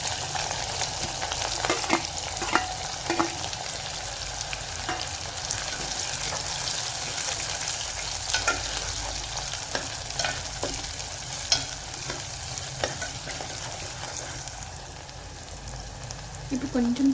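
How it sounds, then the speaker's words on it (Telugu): Onions frying in hot oil with cumin seeds and cinnamon stick in a home kitchen, a steady close sizzle with scattered crackles and pops throughout, no talking over it. "ఆయిల్ హీట్ అయ్యాక 1 టేబుల్ స్పూన్ ఆఫ్ సాజీరా వేసుకుందాం, దాల్చిన చెక్క, ఆనియన్స్ వేసేసుకుందాం."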